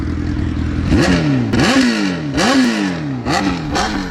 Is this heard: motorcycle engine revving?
yes